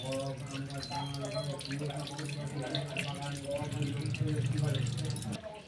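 Beetroot being washed under a running kitchen tap, a steady close splashing stream of water over the vegetable that continues for several seconds before cutting off, with a voice speaking over it.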